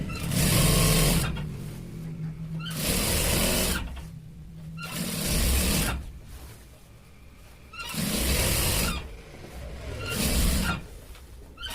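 Sewing machine stitching a shirt, running in repeated loud bursts of about a second each separated by short pauses, close and without speech.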